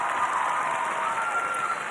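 Steady applause from a commencement audience at a high school graduation ceremony, dense and continuous clapping filling the hall for the whole stretch without pause.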